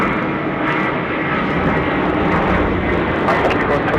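An aircraft lands on runway 34 left at Sydney Airport, a loud, steady, broadband engine roar filling the whole stretch close by.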